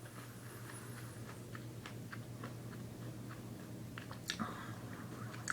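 Someone chews Boston Baked Beans, Ferrara Pan's candy-coated peanuts, with a run of close, sharp crunchy clicks against a steady low hum, and no talk.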